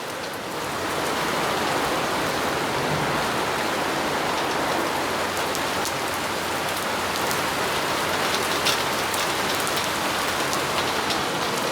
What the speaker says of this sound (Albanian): vjen ky shiu daug, sikur se shihet